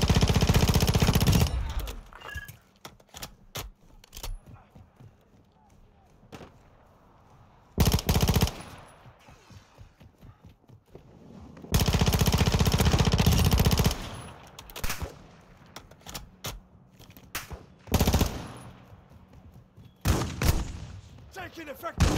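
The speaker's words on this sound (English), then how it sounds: "Taking effective fire!" Gunfire in Call of Duty Warzone 2.0 DMZ: loud bursts of automatic weapon fire recur through the clip, with quieter gaps between them and a few brief game voices.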